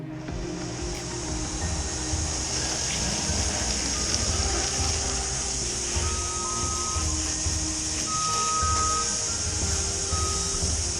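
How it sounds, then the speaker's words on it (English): A commercial building exterior in Melbourne is being pressure washed, the high-pressure spray hissing loudly and continuously over a low motor drone, with a few faint intermittent beeps in the background. "we'll just be washing the whole building like this"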